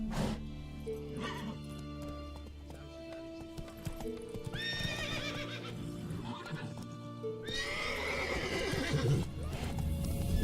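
Hooves of Roach, a horse in The Witcher 3 game, pound in a gallop under background game music, with two loud neighs breaking out midway and near the end.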